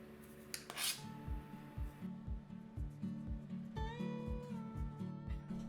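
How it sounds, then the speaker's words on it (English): Mashed potato is spooned a little at a time onto a creamy cheese sauce for a fish pie. Close, rhythmic spoon scrapes and taps against the dish repeat about a dozen times in quick succession. "the next job is to spoon the mashed potatoes on top of the sauce"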